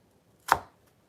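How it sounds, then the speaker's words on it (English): A single sharp knife chop through thin planks of vegetable being cut into julienne slices, one crisp close thunk against a cutting board in an otherwise quiet kitchen. "Do a nice little julienne. Very thin, wispy slices."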